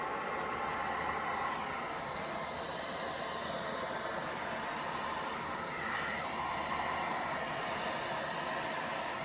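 A heat tool blows hot air steadily onto white resin flower petals for a 3D coaster, a constant loud rushing roar that holds without a break and no voice heard over it.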